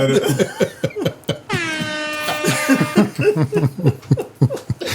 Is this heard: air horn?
yes